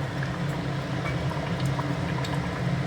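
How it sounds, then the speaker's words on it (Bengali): A small amount of water hits a hot wok while goat meat curry is being made, giving a steady, loud bubbling hiss with a low rumbling boil that continues evenly throughout, with no talking. "অল্প জল দিয়ে দিলাম"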